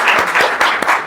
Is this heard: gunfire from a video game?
no